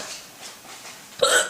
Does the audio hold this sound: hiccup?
yes